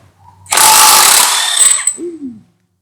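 A J-LD JV88 48V impact wrench hammers loose a five-year-old bolt on a Honda Beat automatic scooter: one loud, close burst of rapid rattling impacts lasting about a second and a half, then winding down with a brief motor whine.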